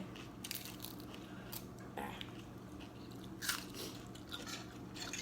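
Close, quiet chewing and crunchy bites of omelette with Korean instant noodles, in irregular soft bursts with faint voices in the background.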